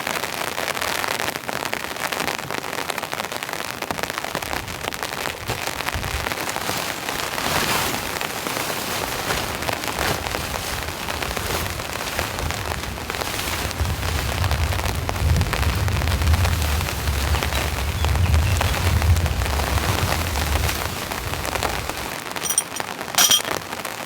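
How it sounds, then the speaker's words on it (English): Heavy rain drums steadily on a hot tent during a camping trip, a dense continuous patter that swells and roars louder in gusts, with a low rumbling rush joining in partway through and no voices. "The rain's starting to come in pretty heavy"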